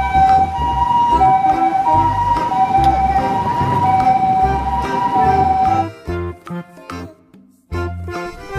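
Wailing toy ambulance siren plays loud and steady for several seconds, then cuts off into a few short bursts and gaps of handling clatter.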